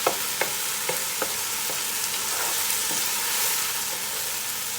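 Garlic stir-fried in a hot pan for pancit bihon gives a steady close sizzle, with sharp scraping clicks from the utensil as it keeps the garlic moving, and no talking.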